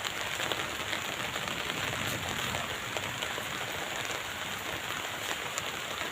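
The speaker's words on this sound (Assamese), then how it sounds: "আমাৰ ইফালেতো বৰষুণ দিছে" Steady rain pours down outdoors as evening approaches, a dense, even hiss of drops on surfaces that holds constant for the whole stretch, with no voices.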